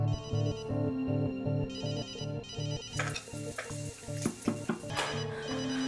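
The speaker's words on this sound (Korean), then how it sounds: "죽은 집주인의 휴대폰에서 전화벨이 울려옵니다" A mobile phone ringtone plays a repeating electronic melody, clear and close, then gives way to rustling and clattering noises for the last few seconds.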